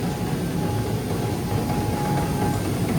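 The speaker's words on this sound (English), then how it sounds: "rattling through the auger" Material rattles steadily through a combine auger in a continuous, loud, grinding clatter with no pauses, working hard in harsh conditions.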